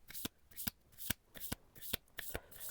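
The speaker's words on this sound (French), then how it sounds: "je mélange le jeu quand même" A deck of oracle cards shuffled by hand, a quick series of sharp riffling bursts at a regular rhythm, close and fairly quiet, with no talk.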